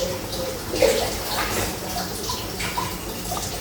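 500 millilitres of clean drinking water is poured into a cooking pot holding pumpkin for a chicken panang curry, making a steady, fairly loud splashing stream that runs without a break.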